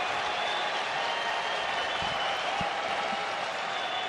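A baseball stadium crowd at an Angels versus Athletics game cheers and applauds in a continuous dense roar of noise that fills the whole stretch, with a broadcast voice faintly underneath.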